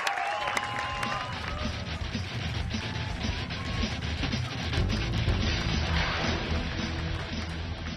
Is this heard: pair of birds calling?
no